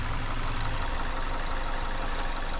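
A 2016 Ford Transit Connect XL work van idles, making a steady, even engine rumble with a broad hiss over it, heard close and with no one talking.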